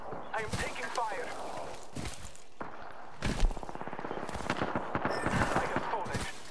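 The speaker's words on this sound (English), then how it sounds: "I am taking fire." Video game gunfire rattles in bursts and single cracks amid a firefight, fairly loud and close, mixed with footsteps and player chatter.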